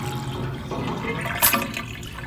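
A plunger works a clogged sink in the video game Reason Unfound, giving a wet, gurgling slosh of water under a low murky rumble, with one sharper splash midway.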